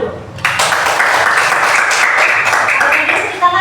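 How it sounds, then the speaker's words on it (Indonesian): An audience breaks into dense hand clapping at an Indonesian event, a loud sustained burst lasting a few seconds before fading, with a voice briefly audible near the end. "Tepuk tangan dulu."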